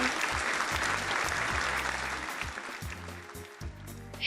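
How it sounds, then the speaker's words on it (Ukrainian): Children clap their hands together indoors during a folk-studies lesson, a steady burst of mixed applause over a low hum, with a faint voice heard alongside. "тож плескаємо долоні"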